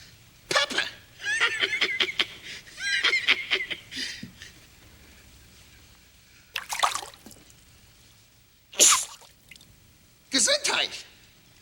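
Three sharp, explosive sneezes triggered by pepper in a Three Stooges-style comedy bit, spaced a couple of seconds apart after a stretch of lively talking at the start.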